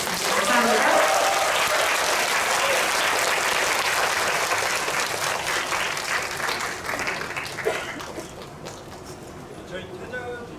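Audience applause for the Handsome Guys cast at a Korean film screening Q&A event: a dense, loud wash of clapping from a large crowd that slowly thins and fades over about ten seconds.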